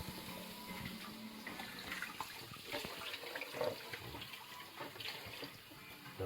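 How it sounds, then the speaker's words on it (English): Tap water running into a sink for hand washing in a home kitchen, a soft, continuous splashing stream with small shifts as hands move through it, close but quiet, with no talking. "Right, just going to wash my hands."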